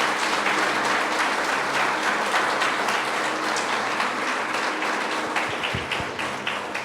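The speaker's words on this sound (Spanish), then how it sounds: "Dale un fuerte aplauso a Dios." A church congregation applauds loudly and steadily, dense clapping filling the room without a break.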